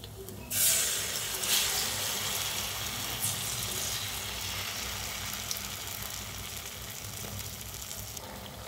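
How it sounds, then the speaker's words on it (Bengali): Small beef burger kebabs hit hot oil in a home kitchen, giving a sudden sharp sizzle that settles into a steady, close frying hiss with no talk. "এগুলোকে আমি এখন একটু ভেজে নেব।"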